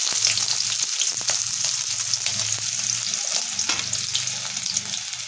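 Chopped onions fry in hot oil for a capsicum chicken fry, giving a steady, close, loud sizzle with light stirring scrapes throughout and no talking.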